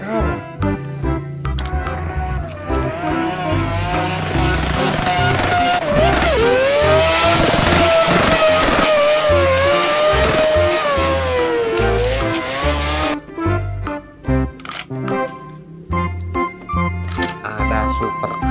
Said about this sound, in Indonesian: Ada mobil NASCAR.